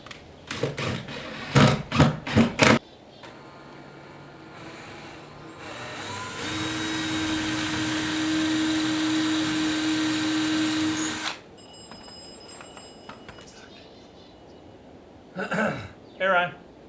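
A power drill pre-drilling wood for hinges on an outdoor shed whines in short bursts, then runs steadily for several seconds before stopping; people talk briefly before and after.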